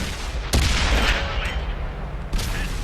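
Tank cannon fire during a World of Tanks match with the STA-1 Tier VIII Japanese medium tank: two sharp, loud blasts about two seconds apart, each with a lingering rumble over steady engine and battlefield noise.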